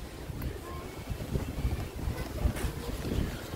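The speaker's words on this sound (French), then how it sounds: "Avec les bourrasques de vent, on est bien dans un temps breton d'hiver." Gusty winter wind in Brittany buffets the microphone in a low, continuous roar that rises and falls in uneven surges.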